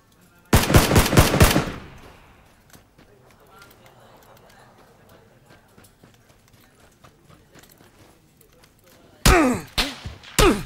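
Gunfire striking the player in the battle royale game PUBG: a loud rapid burst of shots at the start, then a quiet stretch with faint noises, and another sharp volley near the end.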